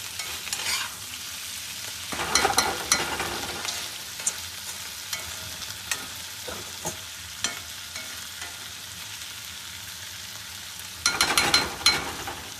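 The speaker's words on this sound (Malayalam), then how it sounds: "നമ്മൾ ഇളക്കി കൊടുക്കുമ്പോൾ ഈ പൂക്കൾ അധികം ഉടയാതെ ഇളക്കി കൊടുക്കണം കേട്ടോ" Cauliflower thoran fries in a pan in the Kerala style with curry leaves, making a continuous hiss. Bursts of scraping and stirring come near the start and at the end, with occasional light spoon taps in between, close and clear.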